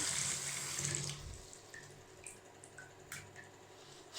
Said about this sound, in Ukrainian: Якщо включити воду.